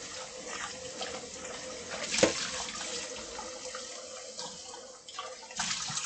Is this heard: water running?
yes